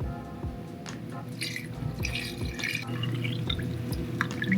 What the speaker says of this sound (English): So now I'm going to pour the water over it.